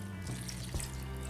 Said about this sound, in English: So as I pour this in, I just put it right over those pebbles.